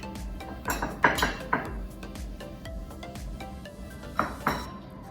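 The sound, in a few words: scooping pasta onto a plate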